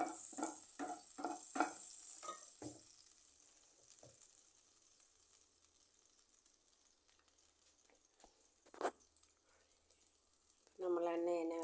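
Sesame oil pours into a heating pan while preparing mango pickle, a series of quick sizzling bursts up front that fade to quiet hiss, with a louder clatter near the end.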